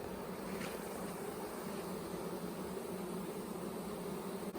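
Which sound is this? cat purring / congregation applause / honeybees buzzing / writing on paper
honeybees buzzing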